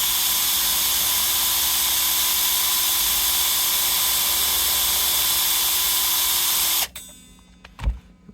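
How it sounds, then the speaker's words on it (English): A Bosch power drill fitted with a string adapter winds a guitar tuner on a Telecaster, a loud continuous high whine that stops abruptly near the end, followed by a soft thump. "incoming non-sponsored Bosch power drill with string adapter"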